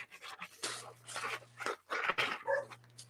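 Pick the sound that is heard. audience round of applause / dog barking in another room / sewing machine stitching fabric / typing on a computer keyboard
dog barking in another room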